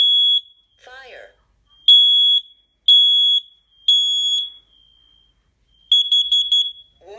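A Kidde P4010ACSCO combination smoke and carbon monoxide alarm runs through its self-test, giving loud, shrill beeps in separate bursts, a synthesized voice announcing between them, and a final quick string of pulsed beeps.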